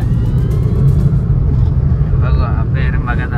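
A car cruises along the Mumbai-Goa highway near Karnala bird sanctuary, heard from inside as a steady, loud low road-and-engine rumble with no break, and a faint higher whine toward the end.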